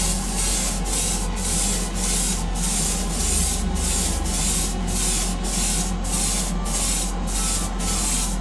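An airbrush with a 0.45 nozzle sprays paint onto Greek-style vases, a loud steady hiss broken by regular short pulses roughly every half second as the trigger is worked, with no voice present.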